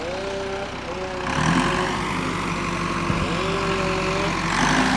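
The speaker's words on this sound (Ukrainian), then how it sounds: "От трактор тягне." A tractor engine pulling a load drones on steadily at moderate distance, rumbling, with a low idling hum and faint background noise throughout.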